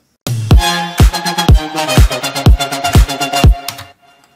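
A punchy synth lead, designed in Serum, plays a bright, stacked chord riff in a steady rhythm of sharp hits, loud and up front, then cuts off cleanly near the end.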